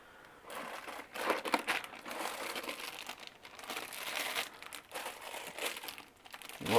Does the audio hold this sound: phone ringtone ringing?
no